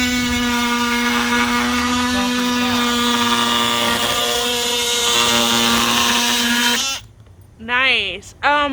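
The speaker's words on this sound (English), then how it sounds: "I've been using this multi-tool more and more just for little stuff." An oscillating multi-tool cuts through old 1920s kitchen cabinetry with a loud, steady high-pitched buzzing whine for about seven seconds, then stops, followed by brief speech.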